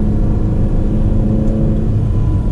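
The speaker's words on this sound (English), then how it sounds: "we'll try to accelerate here" A Ferrari Portofino engine pulls hard under acceleration, heard from inside the car as a loud, steady, deep rumbling drone with no talking over it.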